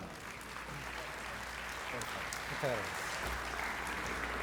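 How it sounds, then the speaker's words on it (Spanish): Audience applause for a lecturer at a genome science talk, a steady, moderately distant wash of clapping lasting throughout, with faint voices underneath. "Palmas para el doctor Ricardo Fujita."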